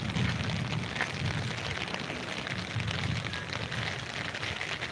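Heavy rain pours down in a steady, dense roar, loud and continuous throughout with no voices.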